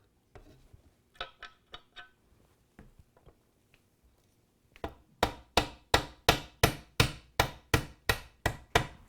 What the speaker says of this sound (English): I'm just using a socket that fits right over the hinge so that I'm able to tap on that bushing there